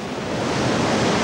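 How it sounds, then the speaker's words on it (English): Gale-driven waves churn across a harbour mouth in a continuous, loud, rushing roar of surf and wind with no break. "The gale has turned the harbour mouth into a seething stretch of water."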